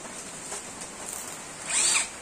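A cordless drill run briefly to show its torque setting, a short, fairly loud whirring burst near the end after a quieter, steady stretch, with no talking.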